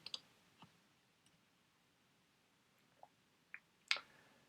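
Mouse clicks on a web page link during an online sign-up: a few faint, sharp clicks spaced irregularly, with a brighter double click near the end, in a quiet room.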